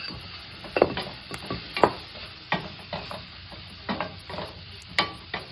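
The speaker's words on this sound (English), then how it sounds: "I'm going to go ahead, add some of these mushrooms in. I'm going to add my pork in now." Pork and mushrooms are stirred in a pan on the stove, with a soft sizzle beneath irregular scraping and clacking strokes of a utensil, close and fairly quiet.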